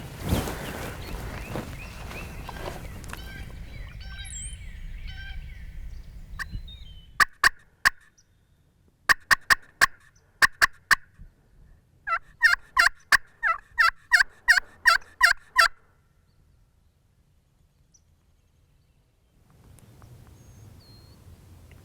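A wild turkey gobbler in a Mississippi turkey hunt gobbles from a distance, sounding off in several sharp bursts of repeated gobbles separated by pauses, after a stretch of earlier broadband noise; no voices.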